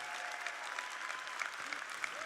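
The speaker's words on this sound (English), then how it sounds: "Give them a round of applause." Conference crowd applauds speakers in a thick, continuous wash of clapping that stays at an even moderate level throughout the short stretch.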